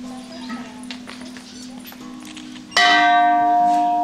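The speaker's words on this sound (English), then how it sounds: "Go touch the gong." A gong is struck in the second half, a loud sudden onset that rings on with a steady sustained shimmer, after a stretch of quiet background talk and shuffling.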